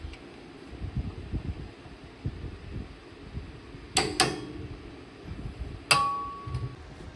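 A wrench and metal tools clank at a 1998 Honda Prelude CV axle nut being torqued with a 17 mm socket, a few sharp metallic clangs standing out over a faint low shop hum.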